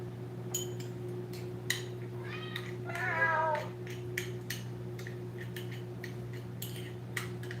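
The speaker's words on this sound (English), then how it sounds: "You're so meowy! You're so meowy!" A cat meows a few times indoors, short mid-pitched calls with one longer wavering meow, moderately close over a steady low hum, with a few light clinks and ticks nearby.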